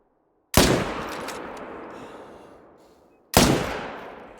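Two sharp rifle shots from a .300 in theHunter Call of the Wild hunting game, each a loud close crack followed by a long rolling echo that fades over a few seconds, with no talk.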